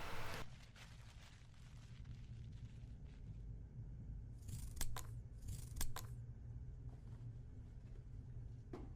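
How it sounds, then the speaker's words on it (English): Redundant basting threads are pulled and snipped from the canvased forepart of a bespoke suit. It is a quiet, low rustle of cloth broken by a couple of crisp scissor snips midway through, with no talking. "Remove the various bits of redundant basting as applicable"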